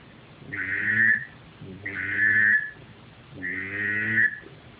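A Flashback duck whistle with its end hole uncovered imitates a drake, giving three separate soft, reedy whistled calls with breathy buzzing, evenly spaced, close and fairly quiet.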